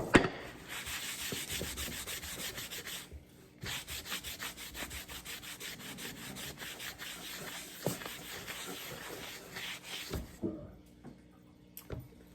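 Close, rhythmic rubbing strokes as navy wood stain is wiped off a wooden board with a cloth, repeated swipes at a moderate level with brief pauses and a few knocks.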